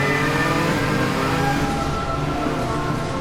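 Porsche CTR2 engine in the racing game Midnight Racing: Tokyo, revving hard and accelerating with a steady, loud mid-pitched drone and rising harmonics, alone without talk.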